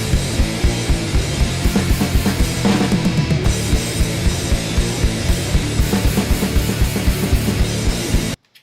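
A full band song mix without mastering plays continuously with drums, bass and guitars, sounding dense but somewhat quieter and less punchy, then cuts off abruptly.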